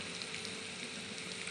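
Food with chili powder, turmeric, cumin and coriander powder and salt fries in a pan with a soft, continuous sizzle, faint and steady throughout.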